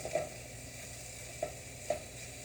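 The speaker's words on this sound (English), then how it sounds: "I'm going to let the onions sweat for just a little bit" Onions sweating in a pan while cooking sesame chicken, a soft continuous sizzle with three light stirring taps spaced out.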